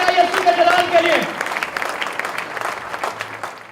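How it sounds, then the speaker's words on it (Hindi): A church congregation applauds in praise, a dense wash of clapping that starts under a voice and continues alone, gradually thinning and fading. "जोरदार तालियां बजाइए यीशु के जलाल के लिए"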